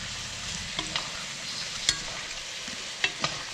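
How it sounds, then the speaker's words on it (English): Pork chops braising in hot liquid in a tilted skillet give a continuous bright sizzle and bubbling hiss, with a few sharp spits and pops standing out over the steady frying noise. "we're going to braise the pork chops with the hot liquid"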